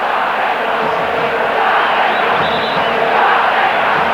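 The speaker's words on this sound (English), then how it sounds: "The crowd sense it too. They're really getting behind their side here." A football stadium crowd at a Brazil versus Bulgaria international friendly roars and cheers in a steady, dense wall of noise, loud and continuous throughout.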